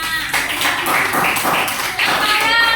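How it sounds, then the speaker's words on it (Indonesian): A class of primary-school children claps for a group in a classroom, giving a burst of quick, uneven hand claps at close range. "tepuk tangan buat kelompok 5"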